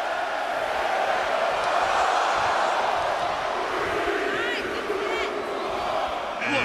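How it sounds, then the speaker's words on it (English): A roaring arena crowd in the WWE 2K23 wrestling game during a Royal Rumble match, a loud, steady wall of cheers and shouts with scattered whistles that holds at full level throughout. "Just listen to the crowd"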